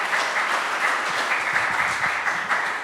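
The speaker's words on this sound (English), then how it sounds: "A little applause for them." A community audience at an immigration-stories event applauds as the first pair comes up, giving a dense, even round of clapping at moderate volume for a few seconds.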